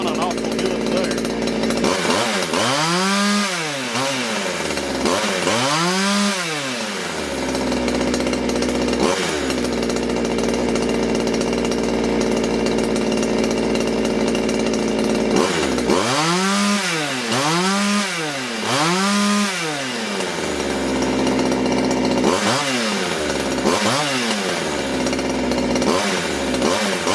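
A small Poulan Wood Shark chainsaw engine runs steadily, revving up and down in repeated rising-and-falling throttle blips, with people talking over it.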